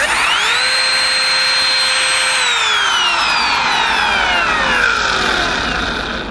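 A Kobalt cordless trim router with no brake switches on, ramping quickly to a loud, steady high-pitched whine, then is switched off and spins down gradually over several seconds, the pitch sliding downward as it coasts to a stop, very close.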